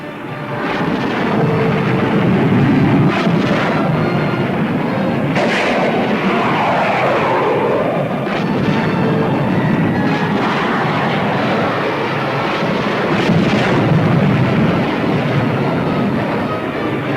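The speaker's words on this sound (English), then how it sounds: "Enemy jets approaching Boulder Dam. Enemy planes coming in." Enemy jet planes dive on Boulder Dam in a 1952 Cold War film, a loud continuous roar of jet engines layered with bursts of anti-aircraft gunfire and heavy explosions throughout, with no speech.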